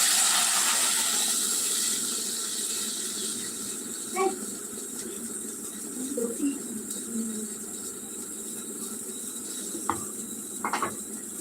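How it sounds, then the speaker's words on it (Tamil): Water pours with a hissing rush into a pot of chicken curry, fading over the first couple of seconds, followed by a quiet simmer with occasional light clinks. "தேவையான தண்ணி சேர்க்கணும்"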